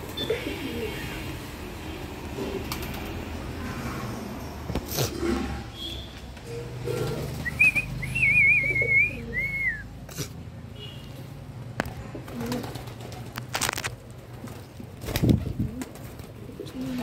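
Fantail pigeons coo softly in a pen amid light rustling and a few sharp knocks, while a bird's brief whistling call rises above the low background.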